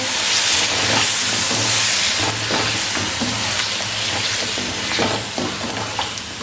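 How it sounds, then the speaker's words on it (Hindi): Yogurt stirred into a hot pan for chicken korma, giving a steady, close sizzle and frying hiss throughout, with scraping stir strokes mixed in. "1 कप दही ऐड करेंगे। अच्छे से इसको मिक्स कर लेंगे।"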